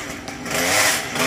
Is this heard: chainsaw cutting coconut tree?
yes